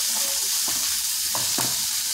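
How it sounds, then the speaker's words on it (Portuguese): Kale sautéing in a pan with chickpeas, peppers and sardines makes a loud, bright sizzle with a few soft stirring thuds over a constant frying hiss, and no one speaks. "adicionar aqui o couve. Vou refogar aqui"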